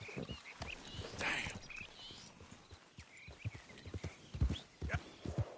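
A horse in the video game Red Dead Redemption 2 moves at a quick pace, its hooves clip-clopping in an uneven rhythm. A short whinny rises early, and faint birdsong plays in the background.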